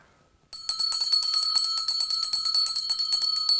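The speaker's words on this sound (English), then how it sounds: "it is my privilege to ring this bell to signify that the time for learning" A hand bell rung at a university welcome day to mark the start of learning, sounding as a bright, rapid run of ringing strokes that starts after a short pause and continues steadily and loudly, alone without talk.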